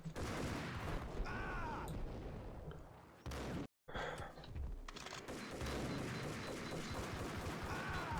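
Gunfire in the video game Max Payne: dense bursts of shots and booms rattling almost continuously, with a brief dropout midway, fairly quiet overall.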